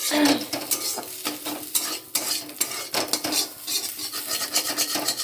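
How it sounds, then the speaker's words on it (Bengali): Fish roe frying in hot oil in a wok while a spatula stirs and scrapes the pan, loud repeated metallic scrapes and clatters over a continuous crackling sizzle, close up. "এই ডিম ভাজতে দিয়েছি মাছের ডিম"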